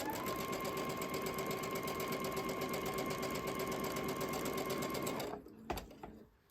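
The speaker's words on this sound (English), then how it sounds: "I am feeding all of the pieces underneath my machine without cutting the threads" A domestic sewing machine chain piecing quilt block fabric, running in a steady, loud, continuous whir for about five seconds before stopping, followed by a few soft handling clicks.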